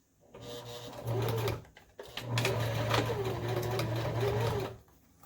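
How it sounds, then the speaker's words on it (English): A sewing machine stitches a quarter-inch seam on a fabric front panel. Two close, steady runs of the humming motor are heard, with a short pause between them, before the machine stops. "And bring it in to where I'm sewing just about a 1/4 inch seam."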